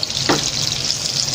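Needlefish sizzling in hot oil in a pan, a steady close crackle with a brief splash-like burst early on.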